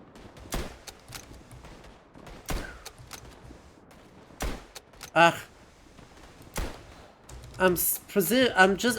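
Gunfire in the Tannenberg video game, with sharp single shots spaced a second or two apart and a cluster of rapid shots near the end, over quiet background ambience.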